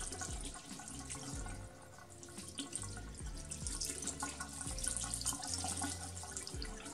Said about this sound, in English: Now we are going to rinse them off with some aquarium water.